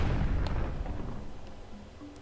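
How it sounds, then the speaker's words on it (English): A bomb spider blows up in The Legend of Zelda: Twilight Princess, one close, heavy boom with a rumbling tail that slowly fades, followed by a few small pops. "this little spider is actually a bomb. So we're going to go ahead and whack him, and then we're going to drop the bomb"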